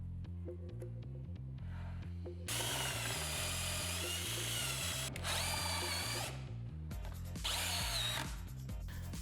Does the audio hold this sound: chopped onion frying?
no